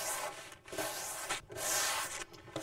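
Sandpaper on a sanding block scrubs back and forth across primer on a car body panel, a close, steady rasping with brief pauses between strokes and no talking.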